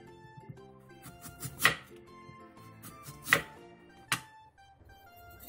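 A kitchen knife cuts a radish into thin rounds about 0.2 cm thick on a board, giving three sharp, separate chops over soft background music.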